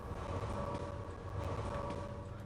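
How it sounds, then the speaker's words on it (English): A train passing in the video game Red Faction 2, a dense continuous rumble with rail clatter and a steady tonal hum, moderately loud and unbroken throughout with no talk. "Just wait for the train to go past."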